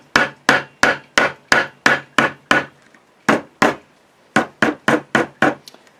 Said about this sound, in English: take our soft hammer and just send it home into the slot.